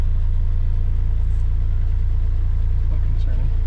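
A 1987 BMW 528e sits idling roughly up close, its low engine throb steady but slightly uneven, while a voice briefly speaks over it.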